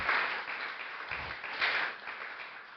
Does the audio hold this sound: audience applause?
yes